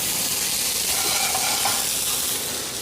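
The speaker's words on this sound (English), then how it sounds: "Just going to give that a toss and let those heat up a little bit just in the pan." Caramelized onions tossed in a hot pan give a steady, fairly loud sizzle and hiss that runs unbroken for the whole stretch, with no voices over it.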